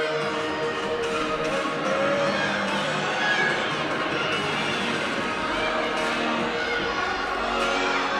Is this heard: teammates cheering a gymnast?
yes